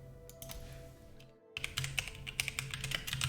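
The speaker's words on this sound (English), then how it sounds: "So on my keyboard, I'm sure my keyboard is very loud." Loud typing on a computer keyboard, quick clattering keystrokes close by, pausing briefly before a denser burst of keys.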